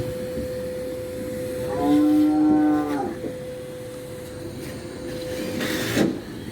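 A cow moos once in a drawn-out call on a farm visit in Bristol, heard at moderate distance over a steady mechanical hum and outdoor background noise, with a second fainter low call near the end.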